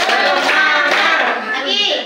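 Children clap along in a counting game with clapping hands, their voices chanting loudly over the claps in a short, lively burst.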